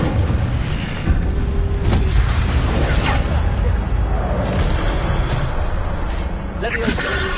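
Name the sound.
Incendio fire spell cast in Hogwarts video game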